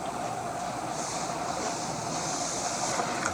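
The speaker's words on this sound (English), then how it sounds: "The sounds you're hearing could be the sound from this AC just right above my head" An air conditioner runs just overhead in a classroom building, putting out a steady, faint, airy hiss and hum with no clear events.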